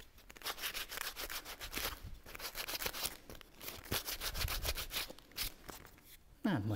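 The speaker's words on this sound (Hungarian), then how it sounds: "Kicsit esetleg meg lehet itt csiszolgatni." A small wooden craft piece is sanded by hand in quick, rhythmic rasping strokes that come in bursts with brief pauses. The sound is close but fairly quiet, and a faint thump comes near the end.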